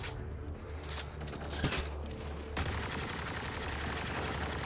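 Rapid automatic gunfire at a shooting range in the video game Mass Effect: Andromeda, a continuous rattling stream of shots with a few distinct louder bursts early on.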